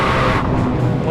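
A Hennessey Venom 1000 Mustang GT500 accelerates hard on a test drive, its engine roaring loud and close in one continuous, unbroken burst.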